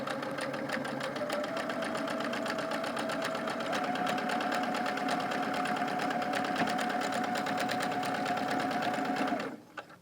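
A sewing machine runs steadily for nearly ten seconds, stitching the side border onto an all-border quilt, with a continuous close whirring hum that stops abruptly at the end.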